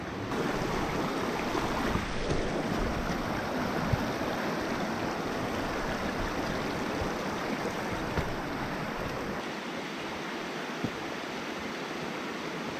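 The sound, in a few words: river water flowing during a hike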